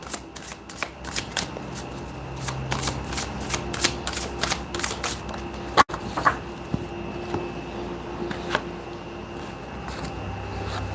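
Tarot cards shuffled and drawn, a steady run of crisp riffling snaps and slides close by, with one sharp louder snap partway through and a low background hum, no speech.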